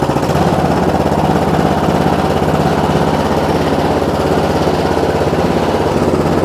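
A gasoline snow blower engine, freshly started after choking, priming and half throttle, runs steadily and loudly at a fast idle with a constant rough chugging drone close by, no voices over it.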